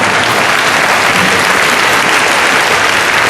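Loud, dense audience applause at a Korean world mission conference, steady clapping filling the whole stretch without pause.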